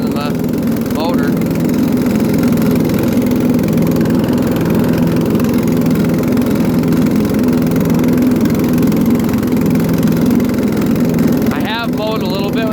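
A Murray riding mower with a 12.5hp Briggs engine runs close by, giving a steady, even engine drone with the mower deck whirring along underneath, and a voice speaks briefly near the start and end.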